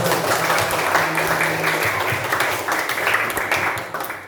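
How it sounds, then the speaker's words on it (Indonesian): Applause for children in an Indonesian fifth-grade elementary classroom, a dense, loud burst of many small hands clapping together, steady for several seconds before tapering slightly. "tepuk tangan untuk anak-anak"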